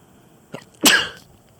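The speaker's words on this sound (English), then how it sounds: "I gotta sneeze." A single sneeze: a short sharp intake followed by a loud explosive burst, close and alone with no talking.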